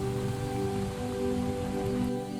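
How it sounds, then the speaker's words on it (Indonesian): Rain falls steadily onto porous cement paving blocks, a continuous even hiss of drops that holds at a constant level throughout, close by and unbroken. "Air hujan yang jatuh ke permukaan semen akan dialirkan ke tanah di bawahnya."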